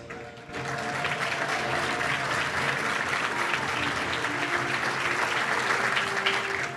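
Sustained applause fills a banquet room at the Little Rock Touchdown Club for honoree Hudson Havens of Little Rock Catholic, a steady dense clapping from a large crowd lasting several seconds.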